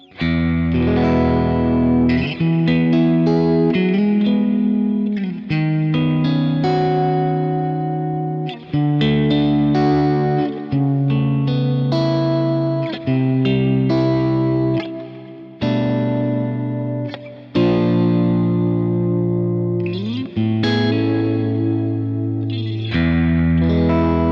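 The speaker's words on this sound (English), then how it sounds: "Then I've also got this really great sounding reverb," Electric guitar chords and notes ring out continuously through a Neural DSP Quad Cortex's Mind Hall reverb, long and spacious, letting each phrase swell and linger.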